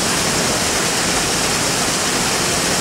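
Water falling from the top of a spot on a countryside bird-nesting walk, a dense, steady close rush of white noise with no breaks and no voices.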